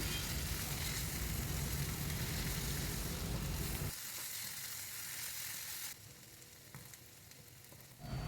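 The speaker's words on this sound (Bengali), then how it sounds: "এবার এই মশলাটা আমি পেঁপের তরকারির উপর ছড়িয়ে দিচ্ছি এবার সব কিছুকে ভালো করে মিশিয়ে নেব" Spiced raw papaya curry sizzles and hisses in a pan as it is stirred. The frying is steady and dense at first, then grows quieter and thinner in stages.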